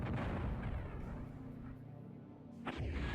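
Artillery fire in the DOS strategy game Spellcross: a heavy, rumbling boom that swells and lingers, fading over a couple of seconds before a second blast hits sharply near the end.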